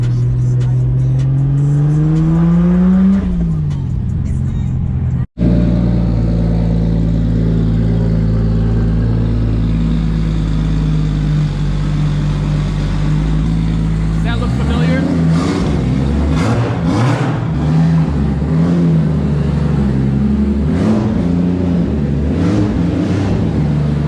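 A car engine running E85 idles with a low rumble, then revs up and down several times through an oval exhaust, loud and nearby, with voices occasionally underneath.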